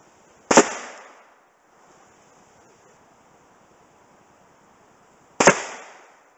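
Two loud, sharp shots from a .54 caliber air rifle firing maxi ball slugs into ballistic gel, about five seconds apart, each with a short decaying echo over faint background hiss.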